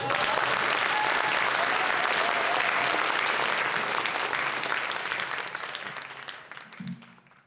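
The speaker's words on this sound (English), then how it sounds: "big round of applause for" A crowd at a high school Mu Alpha Theta induction ceremony applauds warmly, the dense clapping holding steady before tapering off near the end.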